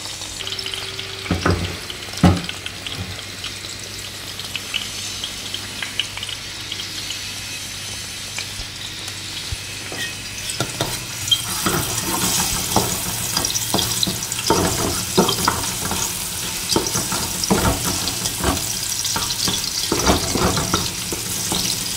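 Garlic and a large batch of leftover rice fry in a pan for garlic fried rice with eggs, a steady hiss of sizzling with frequent scraping stir strokes that intensify midway as the rice goes in, close and continuous with no talking.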